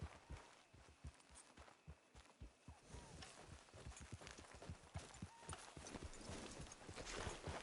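Horse hooves clip-clop at a steady walking pace in a PS4 video game, the even, fairly loud hoofbeats running throughout over a soft game ambience.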